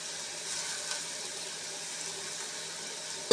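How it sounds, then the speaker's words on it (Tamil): Water pours steadily into a pan of snake gourd being cooked for kootu, a continuous soft splashing rush with a clatter at the very end. "தண்ணி ஊற்றி கொஞ்சம் வேக விட்டுருவோம்."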